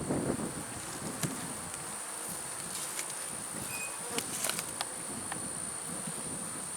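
Honey bees buzz in a steady, dense drone around an open hive during the first spring inspection, with scattered close passes of single bees cutting in over the swarm hum and no talk.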